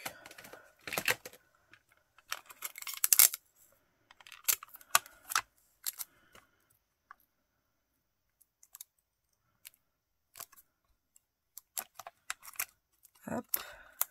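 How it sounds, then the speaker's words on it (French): Adhesive tape is pulled and pressed down in short, crackly bursts with quiet pauses between, close up and fairly soft. "Et je vais mettre du scotch dessus."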